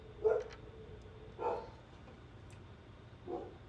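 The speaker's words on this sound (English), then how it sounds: "Y'all can probably hear my dogs barking in the back" A few faint dog barks in the distance, three separate yips spaced apart over quiet background.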